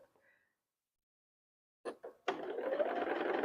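A sewing machine stitches fabric along a seam guide, starting after a couple of brief knocks and then running as a steady, fairly close motor whirr through to the end.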